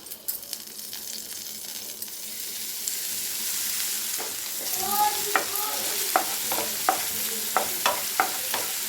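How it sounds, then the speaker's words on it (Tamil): Ground masala hits hot oil for egg roast with a bright, steady sizzle, then a spoon stirs and scrapes the pan in repeated short strokes over the continuing fry. "இதில் நம்ம அரைச்சி வச்சுருக்க மசாலாவை சேர்த்துடலாம்."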